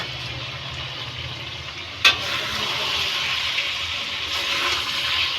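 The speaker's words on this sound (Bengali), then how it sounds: "এখানে চিকেনটা মোটামুটি অনেক কষানো হয়ে গেছে।" Chicken fries in a pan with a constant low sizzle, one sharp metallic clank from a utensil and quiet stirring throughout.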